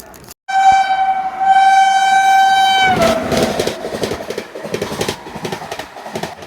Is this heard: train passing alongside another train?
yes